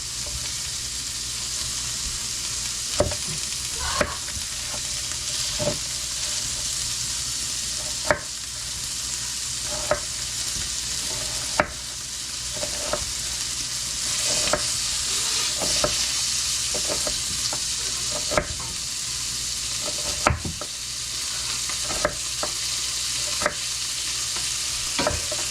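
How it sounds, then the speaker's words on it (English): Onions and garlic sauté with mushrooms in leftover bacon fat, a steady sizzling hiss filling the background while a utensil stirs and scrapes the pan at irregular intervals, close and moderately loud. "continue to saute your onions and your garlic, as well as your mushrooms"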